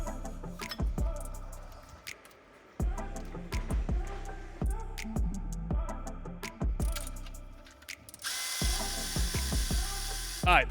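Power tools and ratchets unbolting the supercharger blower from a Dodge Demon-swapped truck, with bursts of whirring, clicks and metallic knocks in close succession and a harsher stretch near the end.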